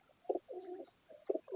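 Teddy breed pigeons coo in soft, rounded bursts, two or three throaty calls with short pauses between them, close to the microphone and quiet.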